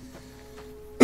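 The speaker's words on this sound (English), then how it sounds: "sorry I coughed at you guys" A single short cough, loud and close, bursts out at the very end after near silence with a faint steady hum from a game running in the background.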